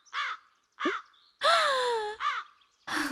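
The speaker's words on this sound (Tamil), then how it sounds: "போய் முதல்ல அந்த காக்காவை துரத்தி விடு." A crow caws five times, harsh and nasal, close and loud. The middle call is drawn out longer than the rest, with brief silences between calls and no voices.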